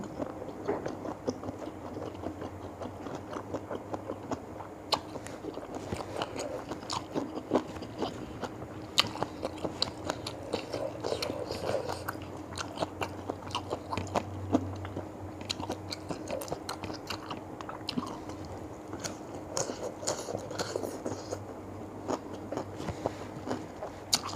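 Slow, steady chewing and biting of mushrooms wrapped in pork, served with a spicy dipping sauce, continues for a long stretch up close, with soft crunchy bites and quiet mouth sounds and no speech.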